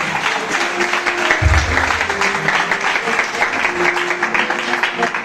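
Applause from a church congregation during a youth presentation at a Reformed Christian church, a steady wash of clapping with some voices and a low thump mixed in, sustained throughout.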